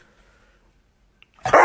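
A dog barks once in a short, loud burst near the end, preceded by near silence with a faint, brief tick.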